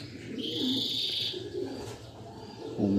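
A champion racing pigeon coos up close, soft throaty coos with a bright chirping bird call heard early on.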